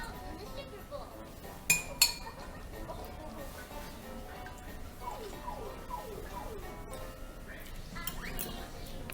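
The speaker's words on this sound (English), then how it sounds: "I'm going to get a new spoon out here" A metal spoon clinks sharply twice as it is pulled from a drawer or utensil holder in a home kitchen during meal prep, brief bright taps over quiet room noise and faint background sounds.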